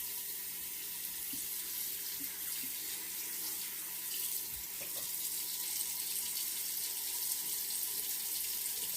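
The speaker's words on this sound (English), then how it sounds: "Let me turn my cold water on." Cold water runs steadily from a kitchen tap during homemade lasagne preparation, a faint continuous hiss and splash with no talking.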